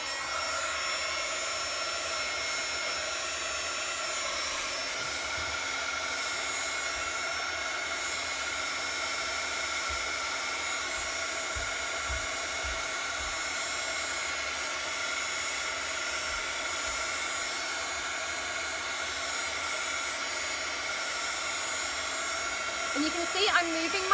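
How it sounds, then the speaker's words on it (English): Heat tool blowing steadily on a stamped card to dry the ink, giving a constant close whirring hiss with a steady hum that barely changes throughout. "And you can see I'm moving my heat tool around."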